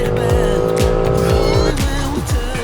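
An Audi RS6 Performance accelerates hard at full throttle, its engine roaring loud and close as the pitch climbs and drops through several quick upshifts under steady road noise.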